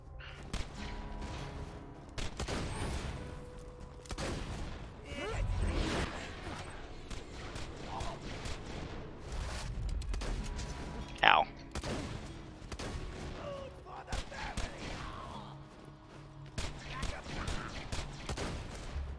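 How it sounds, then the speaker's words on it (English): Gunfire in Borderlands 2 as the enemy Bull fires his shotgun, with a rapid volley of sharp blasts and booms through a busy, loud game-combat soundscape, one louder burst standing out midway. "he's gonna try to snipe me with that shotgun of his"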